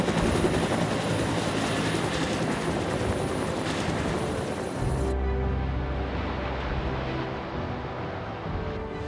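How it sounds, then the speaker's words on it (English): Firefighting helicopters carrying flame-suppressing foam fly over a wildfire, a loud continuous rotor roar filling the whole span, shifting in tone partway through as the aircraft passes. "These helicopters are loaded with thousands of liters of specialized flame-suppressing foam."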